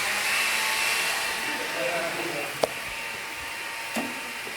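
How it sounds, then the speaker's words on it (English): A blender whirring as it blends cream for a dessert, a steady, fairly loud motor whine with a couple of brief clicks and knocks. "I'm just going to put it in the blender."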